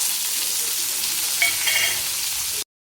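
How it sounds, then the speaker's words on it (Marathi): Onion and tomato frying in hot oil for chana chaat, a steady close sizzle with a brief stir midway, cutting off abruptly near the end. "आता मी तेल थोडं गरम झाले, त्याच्यामध्ये कांदा टोमॅटो टाकते."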